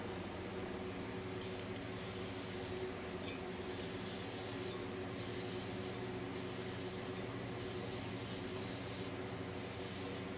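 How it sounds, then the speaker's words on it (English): Short, regular bursts from a spray can of Mod Podge coated onto a glitter tumbler, about six close hissing puffs over a constant low hum. "we're gonna spray it with"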